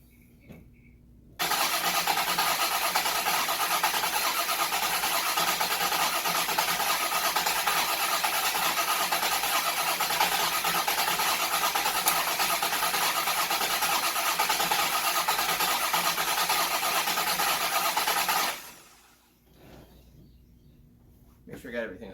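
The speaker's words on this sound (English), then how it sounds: "All right, let's give it a crank, see what it does." A 1967 Oldsmobile Cutlass 455 V8 with newly changed points cranks and roars loudly and steadily up close for about seventeen seconds, then cuts off abruptly into quiet.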